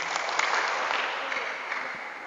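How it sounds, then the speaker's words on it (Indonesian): Steady crowd applause at a community gathering about BPJS Ketenagakerjaan benefits, a dense, even wash of many hands clapping at moderate level with no pauses. "Siapa yang mau hadiah tepuk tangan?"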